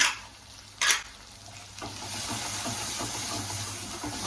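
Steady sizzling and frying of chili powder and garam masala in a pan for eggplant masala, with a couple of brief scraping stirs early on, then a continuous soft crackle.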